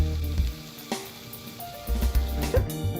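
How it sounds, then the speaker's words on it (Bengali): Chicken sautés in oil in a pan for a kachori filling, giving a continuous moderate sizzle with occasional stirring scrapes and bumps. "চিকেনটা দিয়ে কিন্তু ভালো করে কষিয়ে নিতে হবে"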